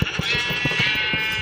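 Sheep in the Minecraft video game bleat in quick, loud, repeated bursts, heard alone without talk.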